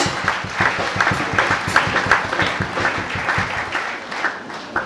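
A church congregation at a centenary service in Ziniaré applauds to acclaim the Lord, sustained loud clapping with a rhythmic pulse throughout.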